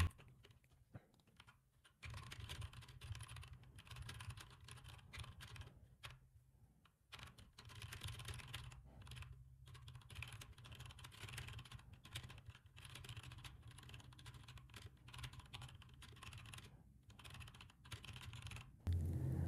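Fingers type on a computer keyboard during an online typing race, a quiet but steady stream of rapid keystrokes with brief pauses, heard alone without speech.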